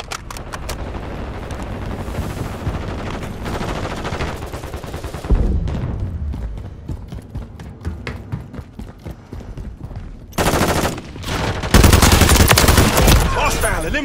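Gunfire in Call of Duty rattles through a busy battle mix, with heavier close bursts of automatic fire near the end.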